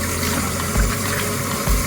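Cold water runs and sloshes over salted, cured mackerel as the salt is rinsed off: a close, steady watery gush broken by two brief low thumps of handling.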